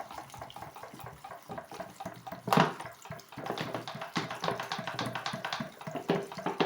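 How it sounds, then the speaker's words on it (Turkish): Bottled water pours into a jar packed with peppers for pickling, a continuous splashing trickle, with a brief sharp clink partway through before the pour carries on steadily nearby. "Evet, şimdi üzerine su ile dolduracağım."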